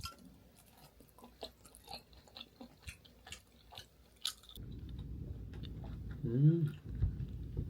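Close, wet chewing of tteokbokki or sweet potato fritters, with soft bites and smacking, followed by a louder stretch of muffled background noise.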